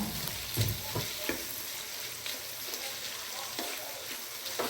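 Crumbled beef cubes are stirred into meat frying in a pan for creamy spaghetti, a steady close sizzle broken by soft scraping stirs of the spoon.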